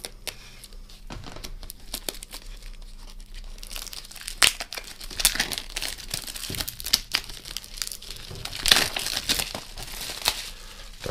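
The packaging of a Witcher 3 Hearts of Stone PS4 expansion is opened by hand, with close, continuous crinkling and tearing of plastic wrap and sharp rustles throughout.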